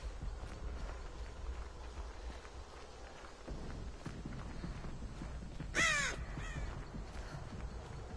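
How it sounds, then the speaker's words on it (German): Crows caw in Dead by Daylight, a burst of harsh calls near the six-second mark over a steady low game ambience with faint footstep-like taps. "Wow, die Krähen."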